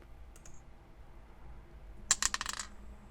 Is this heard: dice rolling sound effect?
yes